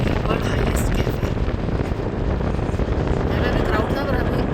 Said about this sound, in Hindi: हवा बहुत ज़्यादा तेज चल रही है, ठंडी हवा चल रही है।